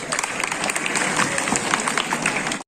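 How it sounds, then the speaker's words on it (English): School audience clapping to welcome students at a school reopening event, a dense burst of applause from a crowded hall, sustained and loud before cutting off abruptly. "Please welcome our students with big round of applause."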